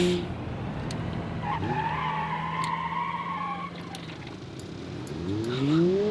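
A sensible hatchback in a build-and-race video game skids under the handbrake, its tyres squealing in sustained drawn-out tones over a steady engine drone, with a second shorter squeal rising near the end.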